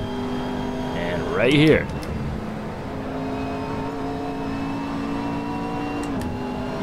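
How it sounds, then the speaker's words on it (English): Racing engine of a McLaren 12C GT3 in Assetto Corsa holds a steady drone, with a brief rising rev burst around a gear change near the start and a short shift blip near the end, under a few spoken words. "I will grab 6th gear right here before this corner before I downshift 2 gears down into 4th"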